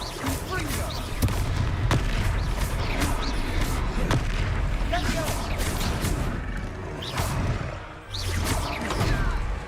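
Fiery blasts from the Confringo spell in Hogwarts Legacy thud and boom repeatedly through a busy battle, with whooshing bursts and crashes layered over dense combat noise while people talk throughout.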